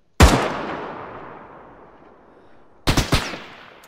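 Gunfire in the military video game Arma 3: one sharp nearby shot with a long echoing tail, then after a pause a fast burst of three or four shots ringing out loud and close.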